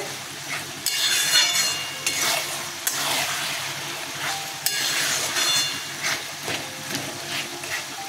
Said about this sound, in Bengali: একটু এইভাবে খুন্তি দিয়ে ঘেটে দেবেন।